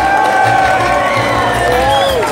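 Audience in a hall greeting actors on stage with applause and cheering, a loud steady crowd roar with whoops and raised voices throughout, a few people shouting over it.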